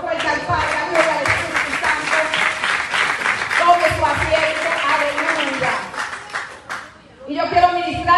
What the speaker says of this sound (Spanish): Dale ese aplauso fuerte al Padre